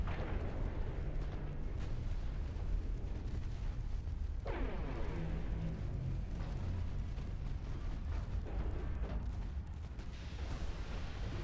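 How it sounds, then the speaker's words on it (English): Deep, rumbling torpedo detonations in a naval warfare game battle roll continuously as heavy, booming bursts layered over a loud, sustained low-end roar. "More torpedo detonations."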